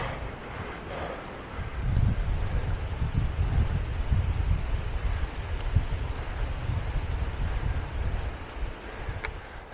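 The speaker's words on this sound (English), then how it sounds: "Still no real threat of rain, but some very strong gusting winds, branches down." Strong wind roars and gusts steadily across the microphone on a mountain trail near the summit, a dense low rumble rising and falling with no voices.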